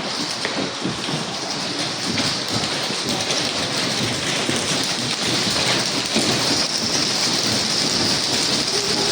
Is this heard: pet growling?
no